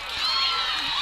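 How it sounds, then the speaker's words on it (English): An excited crowd at a high school district semi-final basketball game makes a steady, dense wash of cheering and shouting noise over the whole short stretch. "I know the crowd's getting a little excited here"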